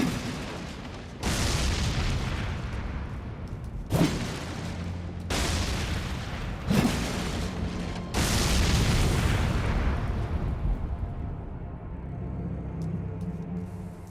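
Barrels in Elden Ring shatter under melee attacks in a series of heavy, booming bursts, each crash followed by a brief rumbling tail before things settle into a quieter low ambience.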